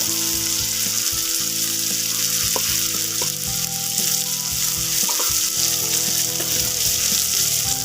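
Pangas fish seasoned with turmeric and salt fries in hot oil with a loud, dense, close sizzle that holds steady, broken by small pops and stirring clicks.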